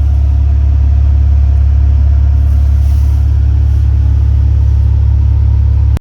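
A 2015 Maserati Ghibli S Q4 AWD with a 3.0-liter twin-turbo V6 idles in gear, a loud, steady low rumble held close throughout before cutting off abruptly at the end.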